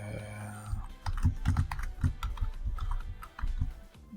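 Quick, close clicks of a computer keyboard as text is typed, a steady run of keystrokes over a low background murmur, with no talking.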